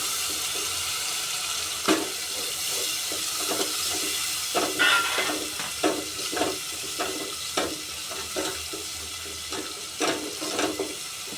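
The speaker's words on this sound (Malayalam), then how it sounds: "കഴുകിയ വിനാഗിരിയാണിത്, അതൊഴിച്ച് കൊടുക്കുന്നുണ്ട്" Vinegar is poured into a hot pan of mussel pickle, giving a steady frying hiss with bubbling and a string of soft, irregular stirring clicks and taps, with no one talking.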